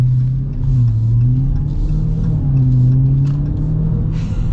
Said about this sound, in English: such a cool sound with the supercharger